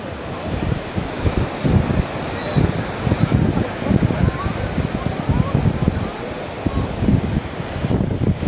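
Strong sea waves surge and break along Tel Aviv beach, a continuous loud roar of churning surf mixed with heavy wind buffeting, rising and falling in uneven pulses throughout.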